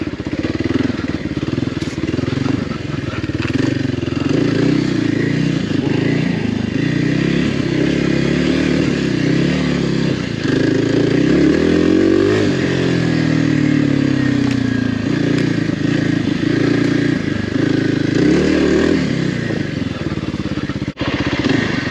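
Kawasaki KLX 300R dirt bike lugging along a trail in first gear with a 14/47 sprocket setup, a loud, close engine drone that rises and falls with throttle, alongside occasional clattering and scraping.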